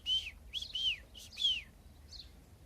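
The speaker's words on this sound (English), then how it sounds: "Unlike the thrush, who always repeats 3 times." A thrush sings in the open, clear whistled notes delivered in short repeated bursts with brief pauses, moderately near against a quiet background.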